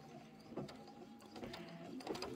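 A Kimberbell embroidery machine stitches quilting on pinwheel blocks, a quiet steady mechanical whir with repeated needle thumps and small rattles, heard alone without talk.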